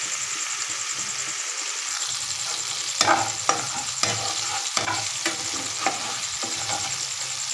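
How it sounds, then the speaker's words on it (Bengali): Egg frying in a pan with onions, chillies, salt and turmeric, a steady close sizzle with occasional stirring scrapes and taps of a utensil, no talking. "পেঁয়াজ মরিচগুলো এবং লবণ ও কিছুটা হলুদের গুঁড়া দিয়ে ডিমটা ভেজে নেব।"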